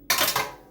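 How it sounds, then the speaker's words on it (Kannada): Pots and steel dishes clatter sharply in a kitchen sink during dishwashing, a close, bright metallic clash followed by a short ringing decay. "ಈಗ ಪಾತ್ರೆ ತೊಳಿತಾ ಇದ್ದೀನಿ."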